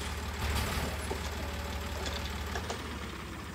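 A farm tractor engine runs inside a shed, a steady low idling drone with faint knocking, fairly quiet and uninterrupted, with no talking.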